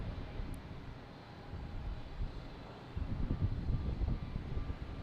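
A Lufthansa airliner, nicknamed the Queen, takes off from Boston Logan bound for Frankfurt, a low distant rumble under wind noise that swells louder and fuller toward the end.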